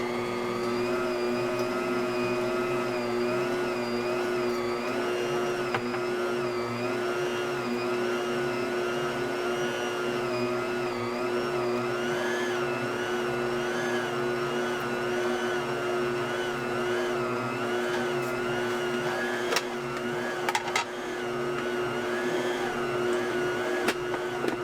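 A stand mixer kneading bread dough made with fresh ground flour, running as a loud, steady motor whine with a wavering pitch, joined near the end by a few brief knocks.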